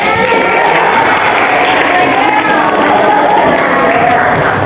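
A classroom of children applauds together, loud, continuous clapping mixed with crowd noise and chatter that stays at a constant level throughout.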